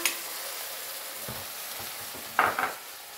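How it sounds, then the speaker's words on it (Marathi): Black masala spice mix roasting in a pan over a cumin tempering gives a soft, steady sizzle with light stirring scrapes and a couple of brief, louder scrapes near the end, with no talking. "व्यवस्थित असं काळा मसाला मी भाजून घेत आहे।"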